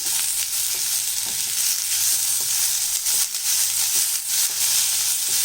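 Chopped tomato, coriander and vegetables sautéing in a pan for a wheat-flour dish, a steady close sizzle and crackle with occasional spatula scrapes and stirs throughout, no voices.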